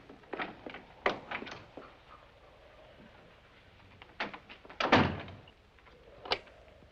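Door thuds and knocks sound in a 1959 mystery film, The Bat, with several sharp impacts spread out in bursts, including one heavier closing bang near the middle.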